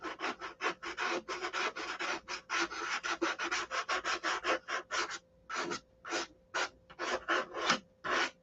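Rhythmic rasping strokes of sandpaper working the finish on a Sig Magnum gun, fast and even at first, then slower and more spaced after a brief pause, close and alone.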